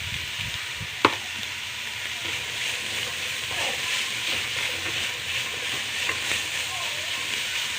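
Vegetables for chilli paneer fried rice sauté in a hot pan with a steady, close sizzle running throughout, broken by one sharp utensil clink near the start and a few faint scrapes.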